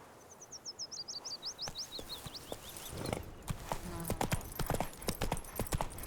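Roach, a horse in The Witcher 3, clip-clops along in a steady rhythmic gallop of close hoofbeats that grow louder, with faint bird chirps early on.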